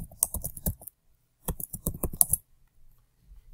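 Password being typed on a computer keyboard: two quick bursts of close, crisp key clicks separated by a pause, then quiet with faint handling noise.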